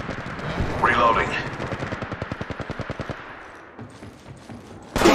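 Rapid automatic gunfire from an enemy squad in Apex Legends Mobile, a steady rhythmic stream of shots that fades out, with other battle noises and a faint sound near the end.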